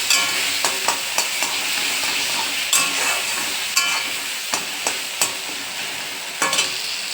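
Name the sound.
panch phoron spices sizzling in hot oil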